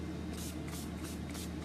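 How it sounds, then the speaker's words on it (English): Makeup primer spray mists from a pump bottle onto a face in several short hissing bursts, close and crisp, with quiet pauses between each spritz and no talk. "Another quick spray."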